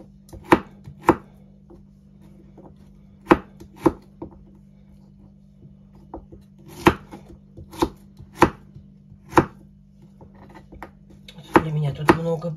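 Knife chopping vegetables for a salad on a cutting board in a home kitchen, about a dozen sharp, separate thuds spaced irregularly, close and clear, with a brief rustle of handling near the end.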